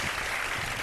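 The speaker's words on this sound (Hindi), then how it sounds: "तालियां भाई आंटी के लिए।" Audience applause for a guest on a live Ramadan iftar television show, a dense, steady wash of clapping filling the whole short moment without voices.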